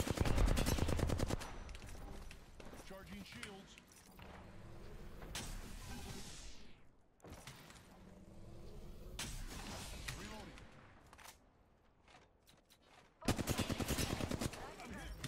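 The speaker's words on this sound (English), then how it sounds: "why are you shooting me?" Gunfire in Apex Legends comes in bursts of rapid shots across a busy firefight, loudest at the start and again near the end, with a player talking over it.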